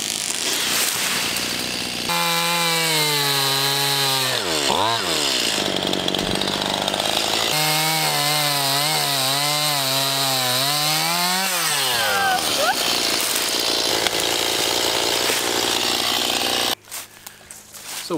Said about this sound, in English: So once you get a chainsaw going, you just don't want to stop.